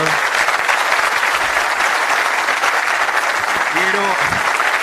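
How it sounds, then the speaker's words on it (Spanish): Audience applause at a university sports medal ceremony in Córdoba fills the space as steady, dense clapping from a crowd, loud and continuous, with a faint voice briefly audible underneath. "Así que aplausos, muy bueno."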